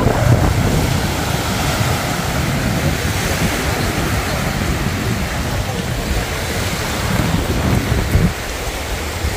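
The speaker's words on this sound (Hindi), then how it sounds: "ये जो लहरें आ रही हैं" Surf rolls in steadily on the seaside beach at Nickerie, Suriname, a continuous loud wash of breaking waves with no clear pauses, filling the scene from start to finish.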